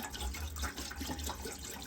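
Water pours steadily from a gallon jug for a moment, a continuous close splashing rush with no talking.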